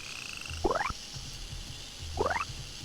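A frog in the indie video game Cavenaut gives two short, rapid croaking bursts about a second and a half apart. A low rhythmic thumping plays underneath.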